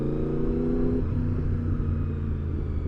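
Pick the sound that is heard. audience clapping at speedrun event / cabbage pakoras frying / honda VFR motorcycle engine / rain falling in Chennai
honda VFR motorcycle engine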